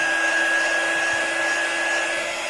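A hair dryer runs steadily and close by, drying paint on a craft surface such as a metal tray, holding one constant whirring tone with no talk.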